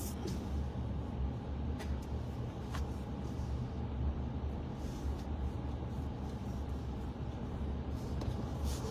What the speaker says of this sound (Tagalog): Oh, traffic na.